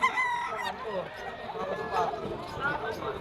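A stag gamecock crows and clucks nearby among other fowl at a rooster sale, its calls mixed with people talking over the birds.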